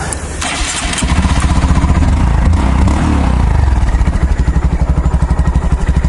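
A Honda motorcycle engine cranks and fires up in near-freezing 0 °C weather, then settles into a loud, rhythmic idle that chugs steadily close by.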